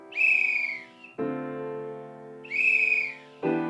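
Jazz played on a whistle, two bright rising-and-falling whistled phrases each followed by sustained harmonic accompanying tones, close and clear with no talk.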